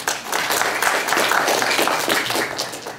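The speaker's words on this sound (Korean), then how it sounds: "그걸 박수로 맞이해 주십시오." An audience at a 2014 Jeju forum applauds to welcome a professor: dense, steady clapping from many hands fills the room at close range and holds loud and even throughout, with no talking over it.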